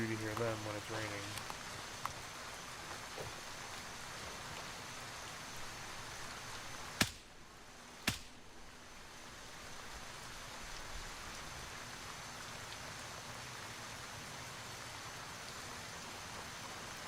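Steady rain falls in the military shooter game Gray Zone Warfare, a constant dense patter holding evenly throughout, broken by two sharp brief cracks near the middle, with voice sounds faintly present.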